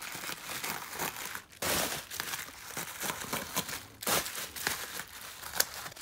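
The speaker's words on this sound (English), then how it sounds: "This is a very thick bubble wrap, so that might be enough, but I'm gonna do it one more." Thick bubble wrap crinkles and crackles up close as K-pop albums are wrapped for shipping, with irregular handling bursts and louder rustling sweeps, quiet overall and with no talking.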